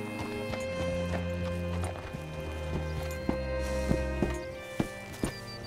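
Horse hooves clop unevenly in Red Dead Redemption 2 over a steady low hum and background music, the footfalls growing sharper toward the end.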